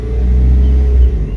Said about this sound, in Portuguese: agora acelera um pouquinho e mantém